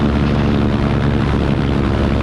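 Steady engine drone from a light floatplane taxiing on water during landing practice, its power being eased back, continuous and loud throughout with no speech.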